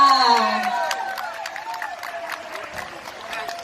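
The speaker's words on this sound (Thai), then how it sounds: "ขอเสียงปรบมือให้กับเจ้าหน้าที่ทีมนะคะ" Applause from an audience welcoming the staff of the Phrae United football club at a team launch event, a broad steady patter of many hands that slowly fades, with a voice over it.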